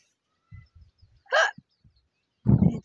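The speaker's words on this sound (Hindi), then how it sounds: "हिचकी आ रही, कौन याद कर रहा है" Two hiccups from a woman, a short sharp gulp and then a louder throaty one, close and clear, with faint soft sounds between them.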